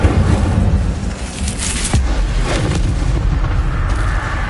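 Incendio fire spell cast in Hogwarts Legacy, a loud, dense whooshing roar with deep rumbling booms that stays steady through the whole stretch, with a sharp burst near the middle.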